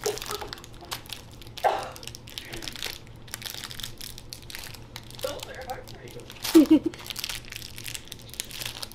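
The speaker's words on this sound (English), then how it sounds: "I can't open the package of fruit snacks" Plastic fruit snack package being crinkled and crushed while someone struggles to open it without using thumbs, in scattered close bursts with a sharper crunch near the end, and speech heard faintly.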